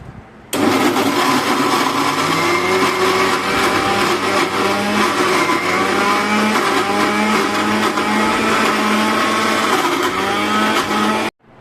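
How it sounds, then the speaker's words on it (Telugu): A mixer grinder whirs steadily at high speed blending mango pieces, a loud continuous motorized drone with a shifting pitch, running alone throughout. "ఇప్పుడు ఈ మామిడికాయ ముక్కలను మిక్సీ పడుతున్నాను."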